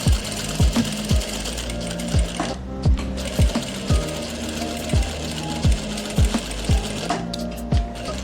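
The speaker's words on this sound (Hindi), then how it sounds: "बस ये बिल्कुल इसके किनारे पे सिलाई लगानी है" A sewing machine stitches along the pocket edge of palazzo trousers, its needle thumping in a quick, steady mechanical rhythm, close and loud, with brief pauses and no talking.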